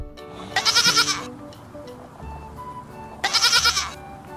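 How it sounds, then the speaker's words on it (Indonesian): Two young goats bleat in two loud, wavering calls separated by a pause, close by with quieter animal noise between. "ada anak kambing"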